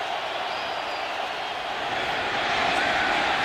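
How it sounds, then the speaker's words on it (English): Steady roar of a noisy preseason football stadium crowd at a Raiders–Seahawks game, a broad continuous wash of fan noise that swells slightly louder toward the end, with no distinct voices standing out. "Culpepper barking out signals in this noisy preseason crowd"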